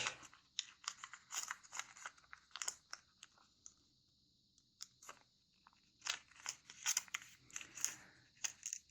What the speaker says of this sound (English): bring this edge to this edge, and then we fold back.